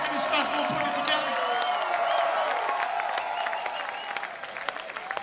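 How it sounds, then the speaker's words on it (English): A festival crowd at an outdoor music event applauds festival workers, a broad roar of clapping with cheers and whoops, while a voice carries on over it and the applause slowly thins out. "Please get a round of applause to all the people working this festival and putting it together."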